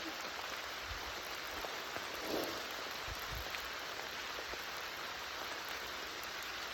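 Torrential rain pours down on the Appalachian Trail, a dense, steady hiss of heavy drops falling all around with a few closer splashes and taps, no voices.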